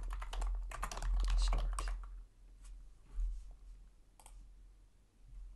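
Code is being typed on a computer keyboard, with a fast close flurry of key clicks at first, then sparse single taps after a pause.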